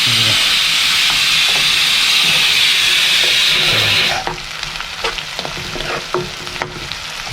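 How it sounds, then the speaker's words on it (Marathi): Onion and green chilli dropped into hot oil, a loud hissing sizzle for about four seconds that then settles into a quieter crackle broken by stirring clicks and scrapes. "कांदा तेल गरम करायला ठेवलेलं आता आपण टाकणार आहे आपल्याला कांदा आणि मिरचीला करून घ्यायचं"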